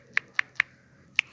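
Four crisp keystrokes typing a YouTube Shorts title, three evenly spaced taps then a pause before the last, close and isolated against a quiet background.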